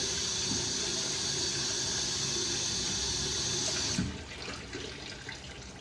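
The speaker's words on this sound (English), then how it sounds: "Let's rinse the broccoli." Tap water runs steadily into a kitchen sink while broccoli is rinsed, a continuous close splashing stream that cuts off abruptly, leaving a quieter dripping wash after.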